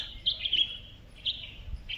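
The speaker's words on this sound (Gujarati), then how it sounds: "બધા પક્ષીઓ આવી ગયા ખાવા માટે" A flock of birds chirps while feeding on scattered food outdoors, with bright overlapping tweets in bursts at moderate distance over a quiet background.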